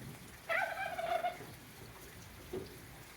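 A turkey tom gives one loud, rapid gobble outdoors in the rain, followed by a short softer call about two seconds later against a quiet, steady rain background.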